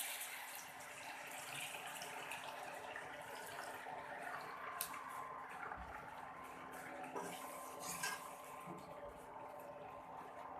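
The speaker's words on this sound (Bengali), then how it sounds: "এখানে পরিমাণ মতো পানি দিয়ে নেব" Water is poured into a pan of pointed gourd curry with fried gourds in a cooked-down spice masala, a faint, continuous splashing and trickling over a quiet kitchen background.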